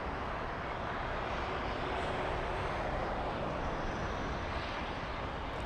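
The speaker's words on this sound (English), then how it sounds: "Delta 767 flying in from JFK" A Delta Boeing 767, delivered in 1999, arrives at LAX from JFK, heard as a steady, broad roar of jet engine and wind noise that holds fairly constant and moderately distant throughout, with no voices.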